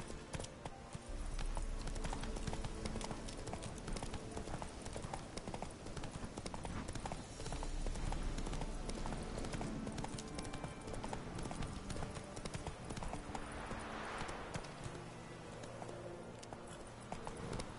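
In The Witcher 3 video game, a horse's hooves clip-clop steadily and rhythmically over continuous game music and ambience, close and sustained throughout.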